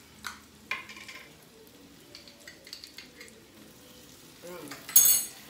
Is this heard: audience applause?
no